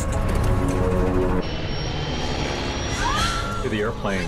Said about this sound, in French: L'avion a décroché.